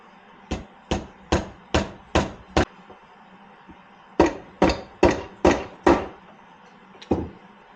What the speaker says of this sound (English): I'm going to tap on this front ear here with a rubber mallet